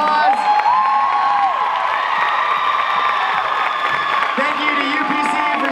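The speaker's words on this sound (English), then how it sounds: "give him one more round of applause" A loud crowd at a live King Cougar stage show cheers and applauds a performer named Macy, with steady clapping and whoops and shouted voices layered on top.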